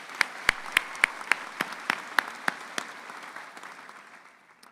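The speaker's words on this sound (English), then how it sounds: "Another round of applause for our speakers today" Audience applause at a spring afternoon commencement ceremony: a crowd claps with sharp individual claps standing out near the start, then the clapping thins and fades to a quiet tail.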